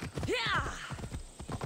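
A horse in Assassin's Creed Odyssey whinnies briefly, then hooves clop in a quick steady rhythm, fairly close.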